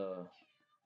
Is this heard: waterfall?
no